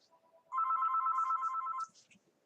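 A telephone bell rings in one continuous trilling burst of about a second and a half, fairly close and clear, with quiet room noise before and after and no talking.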